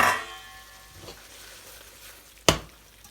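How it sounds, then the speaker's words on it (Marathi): Stuffed brinjals in Maharashtrian masala cooking in a pan over a low gas flame, giving a soft steady sizzle with a couple of brief stirring scrapes, one sharper near the end. "ती गॅस सिमवर खूप छान अशी शिजतात आहेत."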